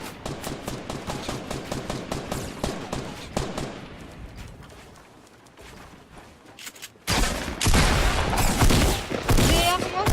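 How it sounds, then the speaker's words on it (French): Rapid bursts of gunfire in the video game Fortnite, a loud fast-repeating volley that fades into a quieter stretch before a dense, heavy barrage of shots erupts again. "Derrière moi, tu as tiré derrière moi."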